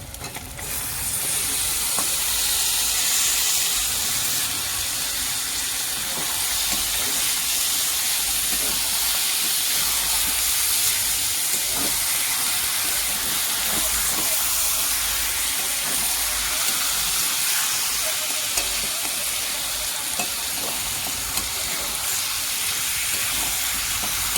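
Turtle meat drops into hot oil cooked with spices and gives a loud, steady, close sizzling hiss that starts sharply and holds for over twenty seconds, with small crackles and stirring clatter and no talking.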